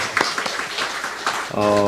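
A church congregation claps to welcome a first-time visitor during a worship service, a scattered round of applause under a speaking voice, then a sustained musical tone enters at the end.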